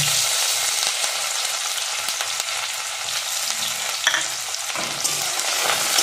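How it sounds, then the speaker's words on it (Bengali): Onions sizzle steadily in a hot pan, with occasional scraping stirs and small crackles throughout. "কাঁচা গন্ধ চলে যাওয়া পর্যন্ত আমি একটু এটাকে ভাজা ভাজা করব।"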